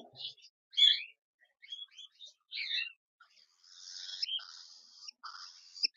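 Young cockatiel chicks just separated from a breeding pair give a run of bright, twittering chirps, close by and fairly soft, rising into a busier, continuous chatter toward the end.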